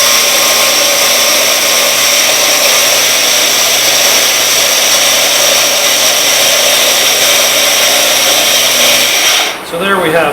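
Canyon Grinders BC-110 grinder running at full speed, a loud constant high-pitched motor whine with a steady roar that holds for about nine seconds before cutting off and winding down.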